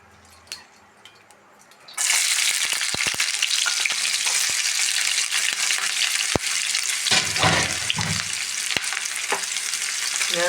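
Sliced onions drop into hot coconut oil in a pan, setting off a sudden loud, steady sizzle that carries on with scattered crackles and stirring clinks, close up and with no voices.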